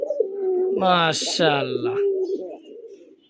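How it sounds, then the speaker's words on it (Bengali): A male pigeon coos close by in a deep, rolling, repeated call, while a person briefly speaks over part of it. "এই যে ডাকতেছে, এটা হচ্ছে নর"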